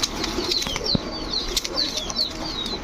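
Pigeons at a market stall flap their wings in quick, close bursts of fluttering, repeated several times over a steady background murmur, with faint chirps in between.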